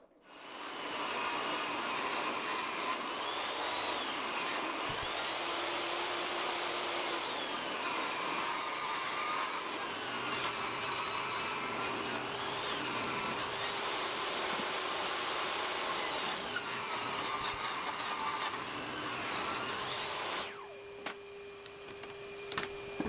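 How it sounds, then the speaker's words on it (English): A table saw rips 4x4 trim boards for a bench seat, giving a loud, steady whine with a whirring motor drone that runs without a break for about twenty seconds before cutting off abruptly. "On the table saw, I cut the opposite side at 3 inches."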